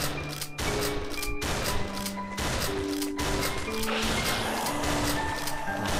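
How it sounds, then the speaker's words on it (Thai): Gunfire and explosions fill a Christmas-themed shooting video game with snowmen as targets, a dense, continuous clatter of shots and blasts with steady musical tones running underneath. "ผมยิงเลย"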